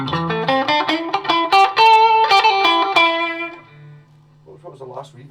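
Electric guitar through a VOX VT20+ modelling amp with hall reverb plays a quick run of bright notes, then the tail rings out and fades into near silence before faint picking resumes.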